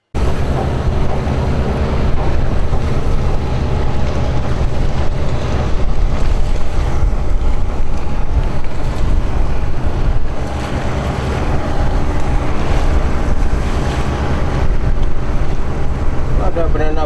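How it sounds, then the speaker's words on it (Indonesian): A banana boat motors across open water, its engine a steady close drone blended with wind buffeting the microphone and the wash of waves, holding an even level throughout. "Ada banana boat di sini."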